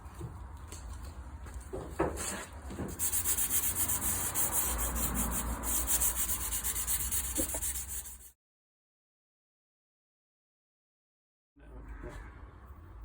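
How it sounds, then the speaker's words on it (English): Car body filler being sanded smooth before primer as part of a dent repair, with steady close rubbing and scraping strokes, a brief silence, then more sanding. "just to smooth it down a bit, basically getting it ready so I can get it into primer"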